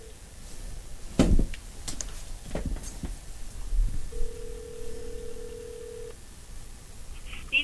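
A telephone call placed over a speakerphone: a steady ringback tone sounds for about two seconds, surrounded by handling thumps and clatter, with no voices.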